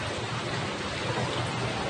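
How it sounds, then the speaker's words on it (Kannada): Heavy rain pours down in Belagavi, a dense, unbroken hiss of water striking surfaces, loud and even throughout with nothing else standing out. "ಬೆಳಗಾವಿಯಲ್ಲಿ ಸುರಿದಂತಹ ಮಳೆಗೆ"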